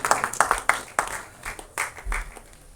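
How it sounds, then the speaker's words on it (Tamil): Audience applause at an album song screening festival organised by a directors' club, a steady wash of many hands clapping with irregular louder claps, moderately close and without talk. "ஒரு பலத்த கைத்தட்டல் கொடுங்க"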